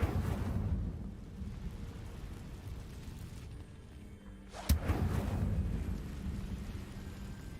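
A fire spell cast in the video game Hogwarts Legacy bursts in one sharp, loud crack about two thirds through, over a steady rumbling, stormy game background.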